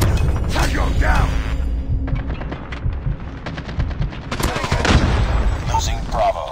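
Bursts of rapid automatic gunfire and scattered single shots in a military shooter video game, loud and close, with a radio-style voice calling out over the shooting.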